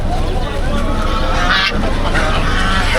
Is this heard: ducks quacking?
yes